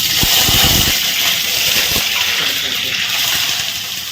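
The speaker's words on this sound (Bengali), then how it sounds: "এবার হচ্ছে আলু ভাজা বসাবো।" Potatoes, about six or seven cut up, frying with poppy seeds in a home kitchen, giving a steady broadband hiss and sizzle with a few crackles early on, fairly loud and close.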